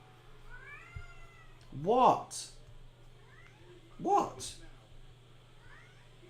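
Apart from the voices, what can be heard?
cat meowing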